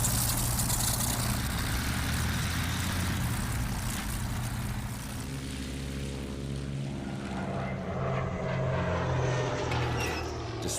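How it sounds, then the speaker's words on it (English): Twin-engine German Gotha bomber aircraft from the First World War flying, a steady loud propeller engine drone with shifting harmonic tones as the planes pass, continuous throughout with no talk. "These planes replace the Zeppelins that have terrorized London and Paris."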